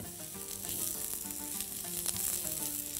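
Onions frying in a pan for a kishk dish with meat and mint, a loud continuous close sizzle with scraping stirs, no talking.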